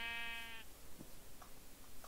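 A single short bleat from a sheep in the Minecraft video game, heard quietly at the start and followed by faint background game sounds.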